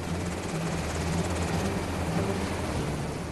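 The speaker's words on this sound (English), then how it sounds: "we're taken by helicopter because the streets aren't safe" Military helicopter in flight over Baghdad, heard as a steady, loud rotor drone with low, pulsing engine hum throughout, no voices.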